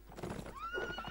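A horse neighs loudly in a video game battle involving mounted lancers, a rising then sustained whinny set against the clatter of the fight.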